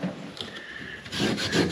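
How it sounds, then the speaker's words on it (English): Scotch-Brite synthetic steel wool scrubbing the metal of a 1972 Chevelle, a close, dry rasping rub in short back-and-forth strokes. "synthetic steel wool, Scotch-Brite. I don't want to wear down the metal."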